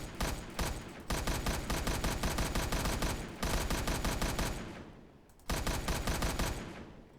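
Sustained automatic gunfire in a survival video game, loud rapid bursts separated by short pauses, with no talking.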